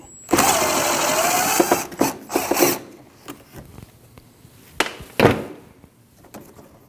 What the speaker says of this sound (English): Now remove that bolt.